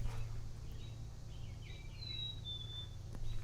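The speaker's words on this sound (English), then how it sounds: "There's a black-capped chickadee." A black-capped chickadee calls outdoors with thin, high whistled notes in a short series partway through, faint against a steady low rumble of background noise.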